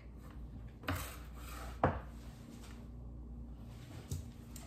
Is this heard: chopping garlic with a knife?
yes